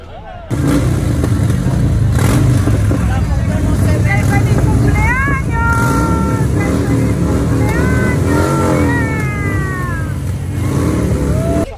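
Engine of a classic 1967 Cadillac Coupe DeVille lowrider, a steady loud rumble running throughout, with people talking and cheering over it.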